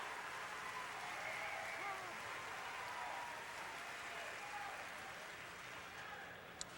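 Spectators at a Scotties women's curling match give a faint, distant, steady clapping and murmuring applause that holds evenly across the arena as a stone is drawn.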